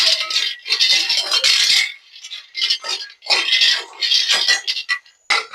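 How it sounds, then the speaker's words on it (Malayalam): Almonds and cashews tumble and rattle in a pan as they are roasted, with bright clattering bursts broken by short pauses as they are stirred, close by and without talk. "എന്താ ലാസ്റ്റ് ആയിട്ട് നമുക്ക് ബദാമും അണ്ടിപ്പരിപ്പും കൂടെ വറുത്തെടുക്കാം."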